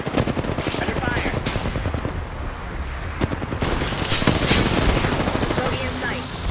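Video game combat with rapid machine-gun bursts and heavy gunfire, loud and continuous, plus booming impacts and a helicopter-like rumble, with voice callouts mixed in.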